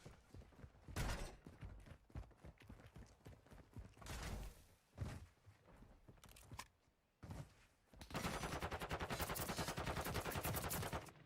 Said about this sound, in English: Shots are going to ring out, but no kills so far